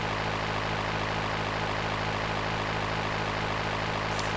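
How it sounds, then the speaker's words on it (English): Small clipped-wing Dodo plane flying in GTA III on PS2, a steady droning propeller-engine hum with constant low tones, loud and unbroken throughout with no talk. "It's a small clipped winged plane called the Dodo."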